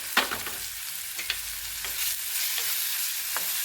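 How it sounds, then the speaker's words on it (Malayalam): Ginger and chopped tomato sauté in a pan for a prawn curry: a soft steady sizzle under repeated scraping spatula strokes, close by. "ഇതൊക്കെ കൂടെ നന്നായി ഒന്ന് വഴറ്റിയെടുക്കണം"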